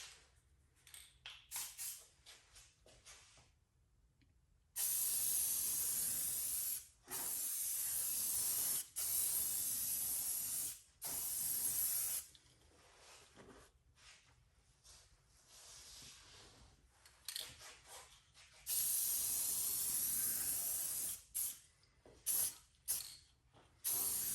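An aerosol can sprays clear coat in several long hissing bursts of a few seconds each, separated by short pauses and faint handling clicks, close and loud against a quiet background.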